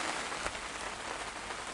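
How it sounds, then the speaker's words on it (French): Light rain beginning to fall outdoors during drift car preparation, a steady soft hiss of drops pattering on surfaces, even and continuous with no voices. "Il se met à pleuvoir tout doucement."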